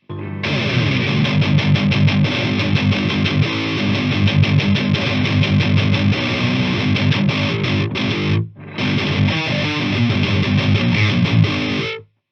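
Electric guitar through a TC Electronic Spark Booster pedal, with bass cut and treble added, plays chords and riffs in a boosted, gritty overdrive tone, continuously, loud and upfront, with one brief break near the end.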